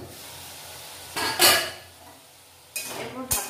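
A metal pan lid lifts off a pot of ridge gourd and potato poppy-seed curry on a gas stove, with two clattering knocks and scrapes, close, over quiet kitchen hiss.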